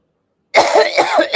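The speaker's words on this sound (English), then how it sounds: "I'm sorry for the coughing." Someone coughs in a short, close burst of rough, throaty hacks that starts abruptly after a moment of silence.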